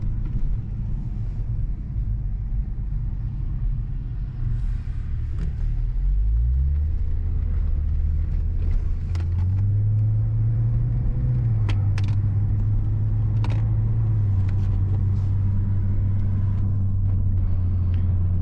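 A BMW 335xi with the twin-turbo N54 engine, running an ethanol tune, driven on the road: steady low engine drone that rises in pitch midway as it accelerates, then holds, with faint road and cabin noise throughout.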